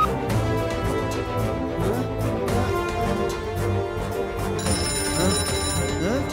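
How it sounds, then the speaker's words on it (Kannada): In a children's animated action show, a telephone rings with a repeated electronic tone, steady and mid-loud, over a dense backdrop of music and effects. "ಇವಾಗ ನಾನು ಲಡ್ಡು ಸಿಂಗ್ ಸರ್ಗೆ ಫೋನ್ ಮಾಡಿ ಹೆಲ್ಪ್ ಕೇಳ್ತೀನಿ."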